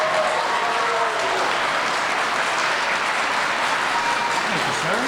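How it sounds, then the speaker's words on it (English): A school audience gives itself a round of applause at a celebration day in Yonkers, loud continuous clapping from many hands, with murmured voices faintly underneath throughout. "So give yourself a round of applause."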